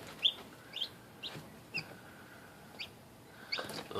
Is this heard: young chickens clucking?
yes